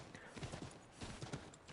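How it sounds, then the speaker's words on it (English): Horse hooves clip-clop in a rhythmic gallop in the video game Assassin's Creed III, a steady beat of quiet hoof impacts with someone talking faintly underneath. "the speed at which I've got the horse going isn't the top speed"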